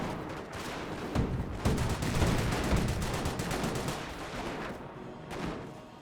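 Rifle grenades and small arms fire in a Company of Heroes 1 match, with a busy stream of sharp gunshots and bursts going off in steady rapid succession, several heavier thumps standing out, loud throughout with no talk.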